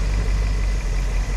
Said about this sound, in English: it's been sitting here idling for about, I don't know, maybe half an hour or something like that.